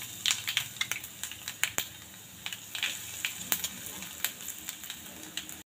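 Cooked rice being mixed with ground coconut masala, crisp fried dal, curry leaves and turmeric in a pan, a steady run of soft scraping and clicking spoon strokes over faint crackle, close and fairly quiet.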